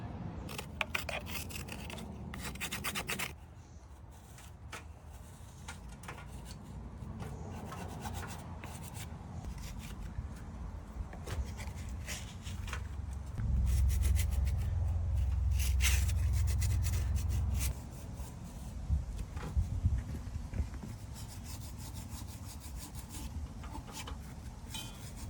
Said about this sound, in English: we scraped off a good amount of the really thick gunk